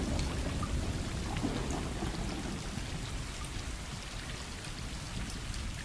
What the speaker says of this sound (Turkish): Yağmurlu bir hava.